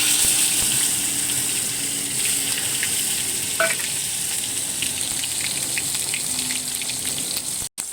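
Chopped tomato hits hot oil with red-fried cumin for a tilapia and taro curry, setting off a loud, continuous sizzle and hiss that holds steady throughout with a faint clink near the end.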